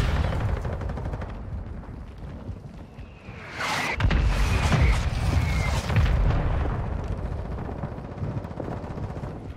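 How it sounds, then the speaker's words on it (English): Mortar strike in Warzone 2: a heavy explosive boom lands midway, followed by rumbling blasts and scattered gunfire over steady background noise. "Hostile mortar strike incoming."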